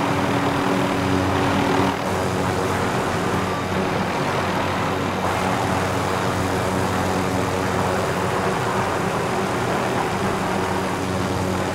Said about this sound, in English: Be advised, enemy attack. attack chopper incoming.